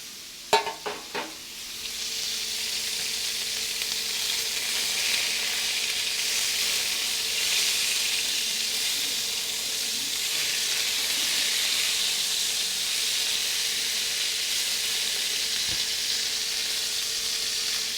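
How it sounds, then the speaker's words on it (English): Lamb meat sears in a hot pan with a loud, sustained hissing sizzle that starts right after a few sharp clanks and holds steady for the rest. "Look for that immediate sear on the meat"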